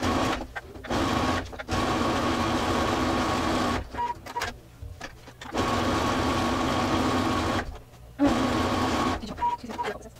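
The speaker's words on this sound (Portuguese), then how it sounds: "Também vou reforçar essa costura na reta." A domestic sewing machine stitches a blouse side seam in long, steady runs of buzzing motor, broken by short pauses between passes.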